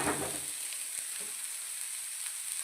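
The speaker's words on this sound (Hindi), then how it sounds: "हमने इसे अच्छे से हाई फ्लेम पर फ्राई कर लिया है" Vegetables frying in a pan on high flame for a quick vegetarian breakfast snack, a steady close hiss with a brief scrape of stirring near the start and no talk.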